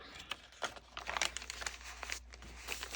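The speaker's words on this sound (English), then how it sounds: "There's that paper, the crunchy paper" Crinkly paper in a junk journal crunches and rustles in bursts of dry crackling, close by, with brief pauses between handfuls.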